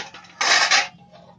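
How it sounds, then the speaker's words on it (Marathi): A metal lid set onto a pot of fish curry on the stove, a bright clattering clank with a second ringing contact close behind, near and loud, then quiet. "आता मी झाकण ठेवते"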